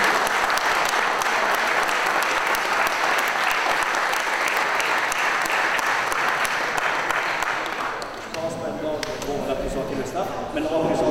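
A crowd applauds a basketball club president at a Liège Basket season presentation held in a car showroom, with loud, sustained clapping that fades around the eighth second as voices take over.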